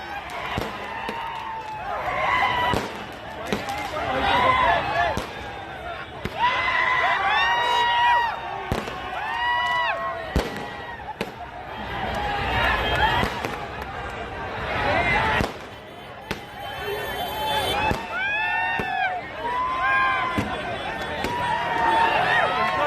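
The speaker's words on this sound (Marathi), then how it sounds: "यानंतर RCBच्या फॅन्सनी सर्वत्र जल्लोष केला." RCB cricket fans celebrate an IPL title win in Pune with an outdoor crowd cheering and shouting, punctuated by firecracker bangs and sharp pops throughout, dense and loud.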